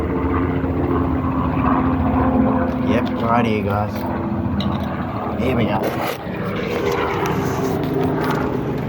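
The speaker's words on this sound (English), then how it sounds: "And now we have a police helicopter flyover" Steady whirring drone of a police helicopter flying overhead outdoors, loud and continuous, with someone talking briefly over it.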